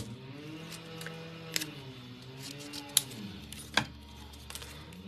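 Scissors cut a craft flower, a few crisp snips standing out over a quiet background with a low whirring tone underneath.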